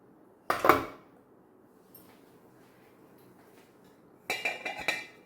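Metal pots clink and clatter in two short bursts while an appachembu steamer is set up for steaming. A quiet pause separates the two bursts, and the second burst brings several quick rattles.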